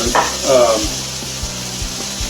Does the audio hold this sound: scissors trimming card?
no